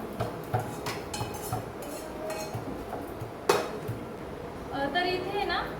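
Roasted peanuts and garlic crushed in a mortar and pestle, giving a series of irregular hard knocks and clinks with one sharp strike midway, while someone speaks throughout.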